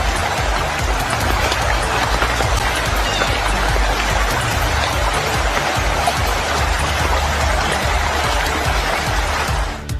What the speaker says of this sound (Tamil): ராமேஸ்வரத்தில் 2வது நாளாக பெய்த வரலாறு காணாத கனமழையால் பாம்பன் பாலத்தில் போக்குவரத்து பாதிக்கப்பட்டது